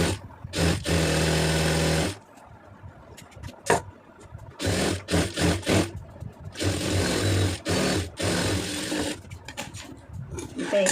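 Sewing machine stitching a round neck in loud, close bursts, with a long run at the start and a longer run near the end, separated by short stops and a few clicks of handling the fabric.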